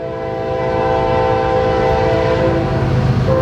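A train rumbles past with a steady, loud horn blast sustained over the rolling noise of the railcars, no voices present.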